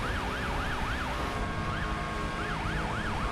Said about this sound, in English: Schmidt responds urgently with his lights and sirens to the scene